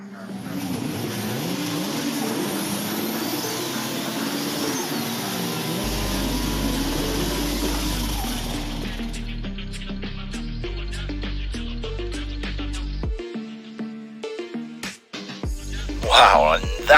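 Race cars starting a race in a video game semifinal, a steady engine drone that gives way to punchy revving surges and gear changes, with a commentator talking throughout.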